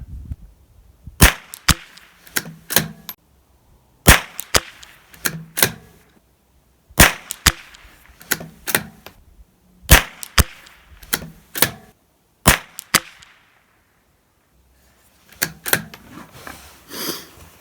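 Ruger Precision Rimfire .22LR rifle firing on a range, a dozen or more sharp, loud cracks spaced a second or two apart in loose clusters, separated by short quiet pauses.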